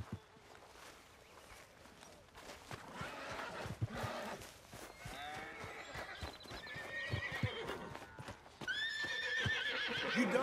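A horse in Red Dead Redemption 2 whinnies several times amid clip-clopping hooves and footsteps, fairly faint and shaky, the calls growing more prominent toward the end with faint voices underneath.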